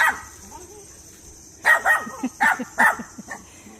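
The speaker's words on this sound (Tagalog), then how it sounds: "Tahol po ng tahol yung aso." A dog barks several times in a quick, uneven burst, fairly close, over a faint steady background hum, at a fishpond.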